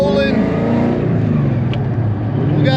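A worked-on car fitted with a replaced throttle body rolls off and speeds up, its engine droning and rising steadily, loud and close, with a brief voice in the background.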